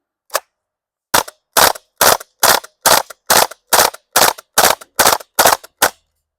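An airsoft gas blowback HK UMP45 fires a single shot, then after a pause a steady string of about eleven sharp, loud cracks with even spacing, then stops, and no one speaks.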